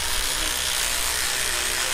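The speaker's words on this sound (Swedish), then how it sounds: "Jag ska hjälpa dig att borsta tänderna." A toothbrush scrubs a child's teeth in a steady, close, continuous brushing hiss with no talk over it.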